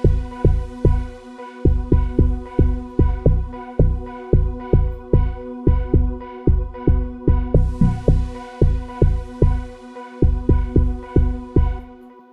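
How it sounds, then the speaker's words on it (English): An amapiano sub bass line pulses behind a log drum an octave higher, in a steady, looping rhythm of deep, punchy throbbing notes with a bright tonal layer on top, loud and continuous throughout without voices. "Behind the log drum, you put a sub bass."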